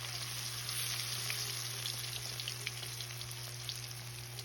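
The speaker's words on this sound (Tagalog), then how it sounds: "magpapainit na rin ako ng mantika para iprito na itong ating tumbong" Pork rectum (tumbong) fries in hot oil with a steady, even crackling hiss and occasional sharper pops over a low background hum, close by and without speech.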